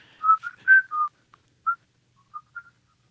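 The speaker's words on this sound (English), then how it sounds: "You're about to hear me whistling for the first time on record." Someone whistles "If It's Love" alone, several clear sustained melodic notes at first, then short sparse chirps trailing off into silence.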